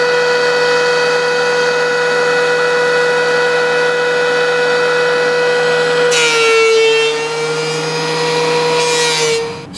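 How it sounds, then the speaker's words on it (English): A power planer runs steadily on a wooden board, a loud continuous machine whine with a strong steady hum, shifting in tone partway through as the cut changes, close up with no talk. "now for a little bit of planing"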